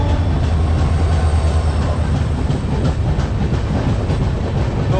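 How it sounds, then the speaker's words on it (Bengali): A superfast express train running from Secunderabad to Raipur rumbles continuously on the rails, heard from inside with a dense, steady roar and faint rhythmic clatter. "ট্রেনটি প্রচণ্ড কার্ভ হয়েছে"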